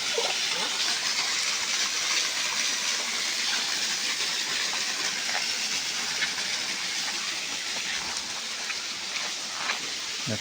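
Broad, steady roar of a waterfall too far away to see, a constant hissing wash of water filling the air with no voices.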